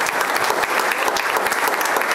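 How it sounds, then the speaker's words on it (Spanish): Steady, dense applause from an audience at a hospitality workers' awards ceremony, loud and continuous throughout the short stretch with many overlapping claps and no voice on top. "Otro aplauso por la cosa."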